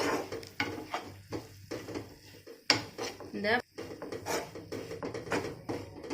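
Ground almond powder is mixed into a sweet coconut filling in a pan, heard as uneven scraping and stirring with clinks of a utensil against metal and a faint sizzle, close and moderately loud.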